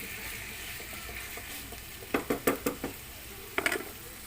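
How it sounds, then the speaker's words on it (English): Beef mince browns in a pan with a steady sizzle and frying hiss. A spoon stirs and knocks against the pan several times in a quick burst, followed by a couple more knocks. "So first we have to brown our mince"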